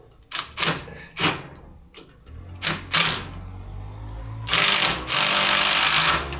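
A bolt is driven with a power tool to press a suspension bushing into a golf cart lift kit, giving several short bursts of rattling impacts separated by pauses and ending in a longer sustained run.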